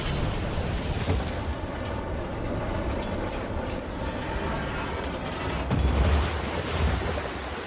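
Lake water draining away in the action video game Evil West, a steady rushing, churning wash with a low rumble that swells slightly toward the end.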